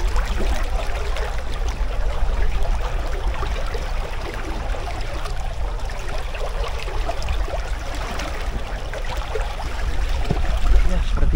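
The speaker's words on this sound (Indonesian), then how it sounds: "Ini alirannya kenceng banget teman-teman." Strong, fast-flowing water current rushing steadily throughout, a loud broadband wash with a low rumble, recorded outdoors near the stream with wind buffeting the microphone.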